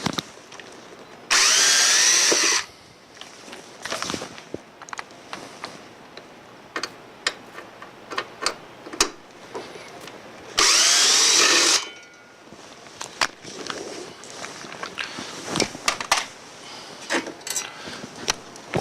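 A power drill spins out screws from a BrakeMate fluid tank bracket in two loud buzzing bursts of about a second each, separated by light ticking and clinking of small parts and tools.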